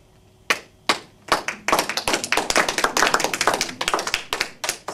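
Scattered hand claps start one by one, then build into a dense burst of clapping from a small group before thinning out.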